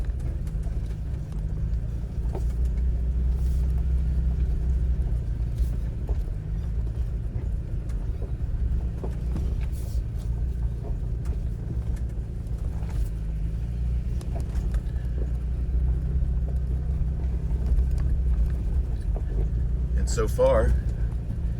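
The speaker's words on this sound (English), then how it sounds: "I am in a 4-wheel drive vehicle though," A 4-wheel drive vehicle in four-high rolling along a trail through a wildlife management area, a steady low cabin rumble throughout with faint bumps and rattles, while someone speaks over it.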